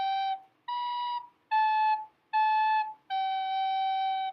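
A short melody section of Au Clair de la Lune played on a wind instrument, five clear sustained notes with brief gaps, close and fairly quiet, no talk.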